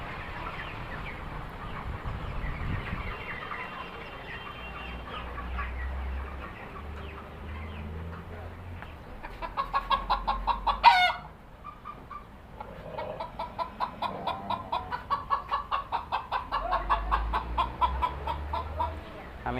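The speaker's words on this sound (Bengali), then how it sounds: "আমাদের এই জায়গায় দেশি মুরগিগুলো আজকে বিক্রি হচ্ছে" Desi chickens for sale at a market poultry shop cluck and cackle close by, with a rapid pulsing run of clucks building through the second half over faint background noise.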